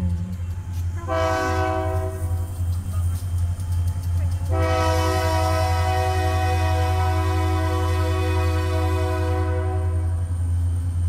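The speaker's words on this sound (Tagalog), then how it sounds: "natimingan pa namin ang mahabang tren" A long train rumbles steadily past nearby while its horn sounds twice, a short blast and then a long sustained one, loud over the rolling noise.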